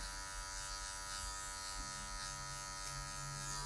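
Electric hair clipper buzzing steadily and close while only the blade tip trims afro hair for a mid fade, a continuous hum with slight shifts as it moves through the hair, no talking.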